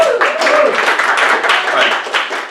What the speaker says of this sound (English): Everyone give a round of applause to Josh